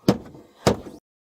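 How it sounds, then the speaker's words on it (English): A car door is kicked from inside, giving two heavy separate thuds about half a second apart, loud and close. "Stop kicking the door."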